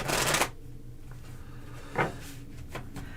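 Tarot cards being shuffled by hand, a quick riffling burst at the start followed by a few softer flicks and taps, close and fairly quiet.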